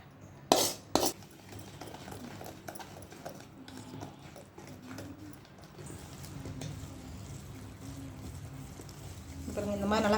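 A cake batter made with milk is mixed in a bowl, with a few sharp utensil clinks early on, then soft, steady scraping and stirring while a voice talks faintly in the background.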